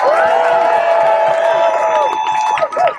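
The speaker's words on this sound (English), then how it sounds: "Please give a round of applause." A crowd at a protest at Richmond, Virginia's Capitol Square cheers and whoops loudly, with scattered clapping and shouting voices throughout, close and continuous.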